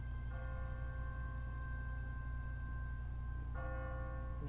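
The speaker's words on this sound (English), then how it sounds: "What kind of church bell goes off at 20 past the hour?" An automatic church bell in The Walking Dead video game rings with a sustained metallic tone, struck twice several seconds apart, sounding over a constant low rumble.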